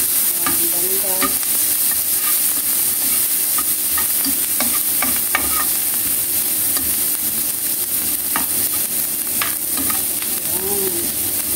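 Chicken gizzards and hearts sizzle steadily in a hot pan while a utensil scrapes and stirs them in irregular strokes, close and loud, with no one speaking.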